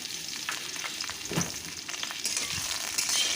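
Pre-fried potatoes dropped into a pan of hot oil tempering, frying with a steady soft sizzle and a few stirring scrapes, close and moderately loud throughout.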